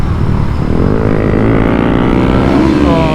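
11-horsepower motorcycle engine revving on a London street, a loud continuous buzzing drone with rising pitch as it accelerates, close and dominant throughout.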